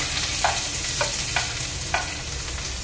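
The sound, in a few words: mustard seeds spluttering in oil with onion, chili, curry leaves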